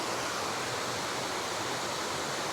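Rushing water at Bheeman waterfall near Jamunamarathur in the Javadhu Hills, a steady dense roar of falling water filling the whole short stretch with no talking.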